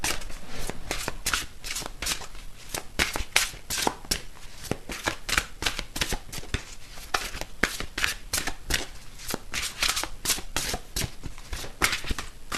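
Oracle cards being shuffled by hand, a rapid run of crisp riffling flutters repeating steadily and close up with no talk.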